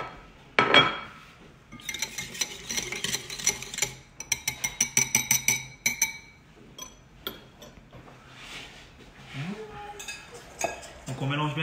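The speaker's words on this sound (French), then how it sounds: "on n'hésite pas à mettre un fouet dedans, toujours, pour que ça aille plus vite, dans le sens où on va le remuer" A metal whisk clinks against a pan while stirring browning butter for honey-almond financiers, a quick run of close, bright rhythmic taps and scrapes, with a person talking in between.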